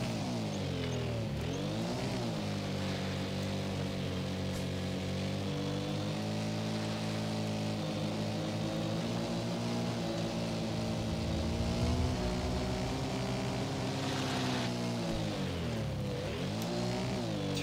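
Engine of a car stuck in place, revving hard on too much gas, a loud sustained roar rising and falling in pitch without a break.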